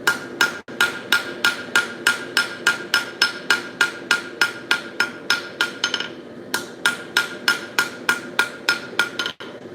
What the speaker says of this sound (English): so I'm choked up on a hammer, just really trying to make nice controlled hits to get it look nice and pretty